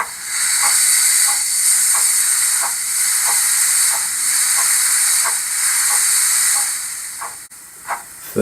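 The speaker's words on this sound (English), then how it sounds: "12 is manual crane cocks." Steady hiss of manual cylinder cocks from a sound decoder fitted to a Dapol Hawthorn Leslie 0-4-0ST model steam locomotive, with a continuous steam rush pulsing in regular soft chuffs, loud and close, ending with a couple of brief clicks.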